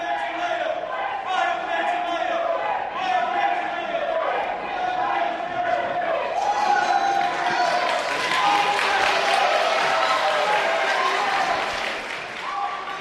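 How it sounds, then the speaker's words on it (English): A political debate audience in Detroit keeps up loud, sustained applause to drown out protesters, forming a dense, continuous crowd roar with shouting mixed in that swells in the second half. "The compensatory applause to drown out protests is I always don't think weird."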